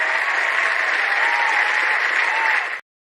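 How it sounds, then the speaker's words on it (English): A burst of applause, dense and steady, plays for a few seconds and then cuts off abruptly into silence. "Am I going to play my applause?"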